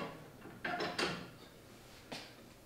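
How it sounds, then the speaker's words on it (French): The steam test bench PCE-DLT 10 has its door swung shut, giving two close mechanical clunks and a latch click, then a softer knock shortly after, with no talking. "On ferme la porte et on appuie sur la touche de démarrage."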